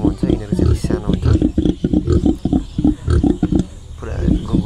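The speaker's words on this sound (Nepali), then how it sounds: "यो चाहिँ प्योर लोकल सुँगुर हो" A black local pig with a short snout grunts close by in a rapid, steady run of low rough snorts, pausing briefly near the end.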